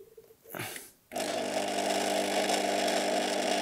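A Laurastar IZZI steam garment steamer on its first start-up: a short clunk and brief whoosh, then a loud, steady droning hum with a broad hiss that continues to the end.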